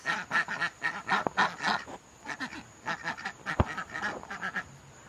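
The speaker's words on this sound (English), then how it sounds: "Over here we have ducks and a goose." Ducks on a farm quack in quick overlapping bursts alongside a goose's honks, close and fairly loud, with a sharp knock partway through.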